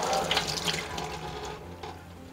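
Tap water runs steadily into a sink as whole garlic cloves are rinsed for a Pakistani beef paya, a continuous close splashing flow that eases slightly toward the end.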